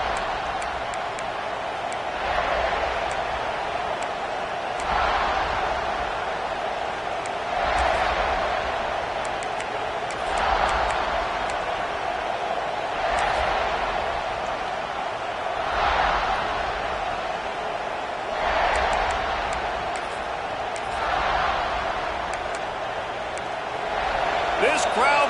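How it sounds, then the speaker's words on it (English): A football stadium crowd at a South Carolina game roars steadily, swelling and fading in repeated waves over a constant wash of noise. "This crowd bringing the energy and noise early"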